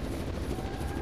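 Rotor wash of a rescue helicopter arriving in the disaster game Zettai Zetsumei Toshi 2, a steady dense churning roar with no clear gaps, filling the short moment at moderate loudness.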